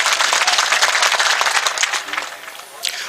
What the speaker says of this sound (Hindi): एक बार जरा खुल के ताली बजाओ